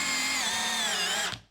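A power drill spins at a steady high whine, loud and close, then winds down and stops at the end.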